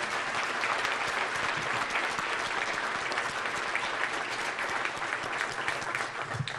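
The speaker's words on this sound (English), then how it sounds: "A round of applause for him." Audience applause at an international hall of fame ceremony in Cleveland for a young high school anthem singer, dense sustained clapping that fills the room evenly for over six seconds, somewhat distant and moderate in level.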